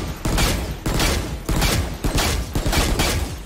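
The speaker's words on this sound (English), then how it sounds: "the Bulldog, which is fully auto when you're in hip fire, but when you're ADS, you're shooting your 3-round burst" Bulldog rifle from the video game VALORANT firing rapid bursts, loud and close, with short sharp volleys repeating about every half second and no talk over them.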